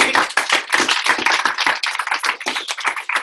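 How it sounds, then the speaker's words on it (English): An audience claps loudly and closely, a dense burst of applause that holds steady for about three seconds with no voices over it. "Let's give Cool. Bri a round of applause."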